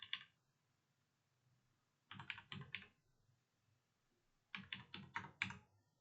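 Two quick bursts of keystrokes on a computer keyboard as an Aadhaar number is entered into an online form, each run of clicks lasting under a second with a quiet pause between them.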